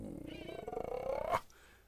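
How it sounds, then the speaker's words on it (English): A cat meows in one long, loud, rising yowl lasting over a second, its pitch climbing steadily before cutting off sharply into quiet. "That was a cat."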